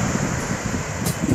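Strong wind gusts across the microphone on the Atlantic Ocean shore, a steady roaring rumble with a faint wash of surf behind it, loud and close.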